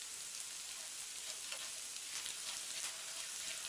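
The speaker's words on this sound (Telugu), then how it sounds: "మినపప్పు, జీలకర్ర వేసుకుని వేపుకోవాలి" Urad dal and cumin seeds fry in oil in a pan, giving a steady, soft, even sizzle with faint crackles throughout and no voices present.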